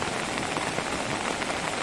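Heavy monsoon rain pours steadily, a dense continuous hiss of drops drumming on surfaces.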